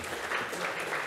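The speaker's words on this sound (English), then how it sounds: "I think a decade of Brian and Rana and Mai's life should be applauded" Audience applause at a history event, a short burst of steady clapping from a crowd, fairly close and continuous without any speech over it.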